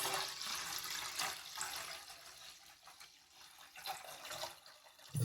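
Water running and sloshing while ration rice is rinsed in a kitchen, a soft, uneven splashing trickle with faint pulses of pouring, fairly quiet and close.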